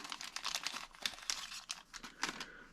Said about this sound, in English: Now we can put the first paper gasket on the axle.